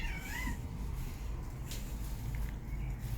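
A cat at a window gives a brief, close meow near the start, followed by quiet shuffling over a steady low background hum.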